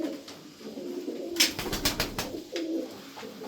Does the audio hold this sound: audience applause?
no